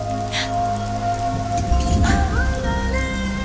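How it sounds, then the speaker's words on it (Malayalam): Steady rain patters continuously in the background under sustained tonal music, with a brief denser rumble near the middle. "മഴ തോർന്നിട്ടില്ല."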